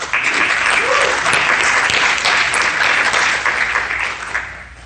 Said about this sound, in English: Round of applause for Jordan Patterson.